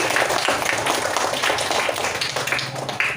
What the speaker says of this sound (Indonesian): beri tepuk tangan untuk Alpi